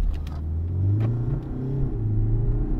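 A BMW 5 Series G30 in sport mode accelerates hard from a standstill toward 100 km/h, its engine giving a steady, loud, rising rumble heard from inside the cabin with no talking.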